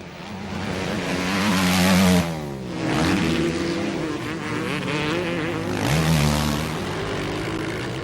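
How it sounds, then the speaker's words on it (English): A Yamaha 500 motocross bike racing around a track at a motocross event, its engine roaring loudly with rising and falling revs as it passes, swelling and fading against a steady racing background. "His Yamaha 500 is absolutely lapping up the conditions of the track, even if his top speed's lower than some of the 250s."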